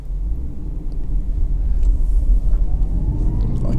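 A 2003 Lexus IS 200 2.0 SE saloon driving, heard from inside as a steady low road and engine rumble that swells slightly midway.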